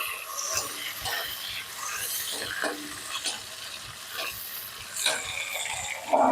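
Ripe tomatoes fry in oil with a spice tempering for a drumstick curry. A steady sizzle runs under repeated scraping strokes of a stirring spoon against the pan, close and fairly loud.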